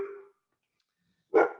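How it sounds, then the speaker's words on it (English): A dog barks twice in the background, with one short bark at the start and a louder, fuller bark after a quiet gap, both moderately close. "you might hear some barking in the background"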